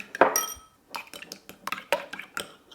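A spoon mixes sugar, mirin, soy sauce and vegetable oil in a small dish, giving a quick run of close, irregular clinks and scrapes against ceramic or glass, with brief pauses between strokes and no voices.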